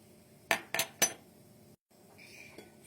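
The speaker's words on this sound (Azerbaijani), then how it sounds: "Altına nəlbəki və ya boşqab qoyursunuz." A saucer or plate set down on a hard surface, three quick close ceramic clinks in succession, then a short silence and a faint ringing tone afterward.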